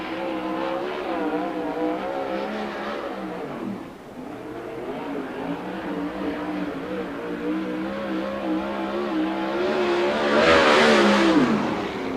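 A 410 sprint car on a qualifying lap at the USAC Oval Nationals, a high-pitched engine wailing and shifting in pitch as it circles, fading briefly, then swelling louder with a sharp burst toward the end.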